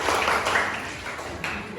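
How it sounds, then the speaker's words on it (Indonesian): A short burst of applause from a class during a shot put lesson, dense clapping that fades slightly and then picks up again. "tepuk tangan."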